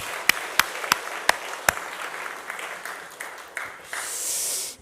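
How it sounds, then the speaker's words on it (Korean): A church congregation claps during a worship service: a few sharp, evenly spaced claps ring out first, then loosen into scattered clapping before trailing into a soft hiss. "우리 박수 한번 청년들을 위해서 쳤으면 좋겠습니다."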